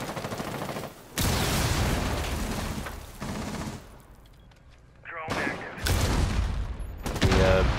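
Loud bursts of gunfire in Rainbow Six Siege, dense rapid volleys filling most of the stretch with a quieter lull midway, then more shooting resuming near the end.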